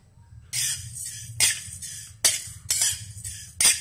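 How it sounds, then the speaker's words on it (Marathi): Horse gram dry-roasting in a pan, stirred with a metal spoon: a run of sharp scraping, rattling strokes that come in bursts over steady low background noise, close and moderately loud, with no voices. "आता आपले फुलगे भाजत आलेले आहेत,"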